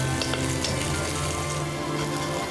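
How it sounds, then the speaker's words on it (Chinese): Dumplings pan-frying in an oiled flat pan after being simmered and drained, a steady close sizzle with crackling spread evenly through the clip and no voices. "继续干煎。"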